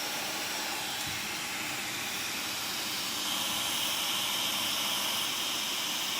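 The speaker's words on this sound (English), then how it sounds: "Your blow dryer. On a low setting," Hair blow dryer running steadily on a low, warm (not hot) setting, used to dry eyelashes; a continuous close airy whoosh that swells slightly louder partway through.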